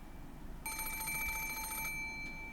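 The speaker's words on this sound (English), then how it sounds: "At that time, suddenly the piercing sound of a phone rang through the room." An antique extension telephone in a grandfather's study, from the game Umineko When They Cry, rings with a shrill, rapid metallic bell trill that starts abruptly and sounds steadily for about a second before stopping, over low background hum.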